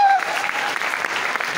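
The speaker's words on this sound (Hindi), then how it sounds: "जोरदार तालियां।" Loud applause from a seminar audience, a dense wash of clapping that carries steadily through the whole moment.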